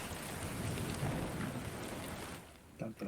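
Heavy rain pours steadily in a loud, dense wash with rumbling thunder underneath, then briefly eases before a fresh surge near the end.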